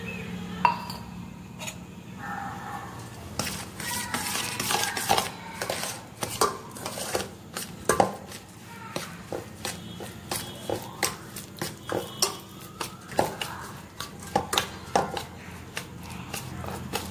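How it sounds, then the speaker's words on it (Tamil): Sugar is mixed into oil in a bowl while wheat biscuit dough is being made. A spoon knocks and clinks against the bowl in quick, uneven, close strokes over a low background. "சக்கரை எண்ணெயில போட்டு மிக்ஸ் பண்ணிக்கலாம்"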